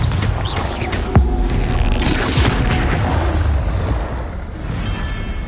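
A Confringo blasting spell explodes in the Hogwarts Legacy video game, a sharp boom followed by a dense, rumbling wash of debris and game noise that stays loud for several seconds.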